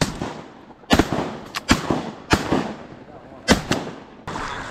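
Shotgun blasts fired at ducks while hunting a small creek: five sharp, loud reports in an irregular volley over about four seconds, with hunters talking quietly between shots.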